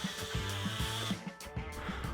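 Power drill boring rubber out of a subframe bushing on a rear-wheel-drive Nissan, whining steadily with rhythmic bumps and stutters as the bit bites and grazes near the inner collar.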